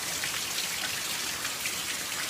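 Steady rain pours during a storm, a dense, even hiss of drops hitting surfaces with no pauses, fairly loud and continuous with no voices.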